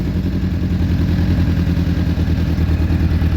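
A Suzuki Bandit 600 motorcycle engine runs on choke and idles lumpily, with a loud, close, uneven low pulsing that throbs steadily.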